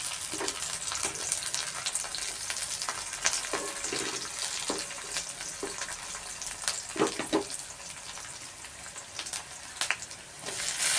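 Curry leaves hit hot oil in a home kitchen, crackling and spitting in quick sharp pops over a low steady sizzle, with a few louder bursts near the end.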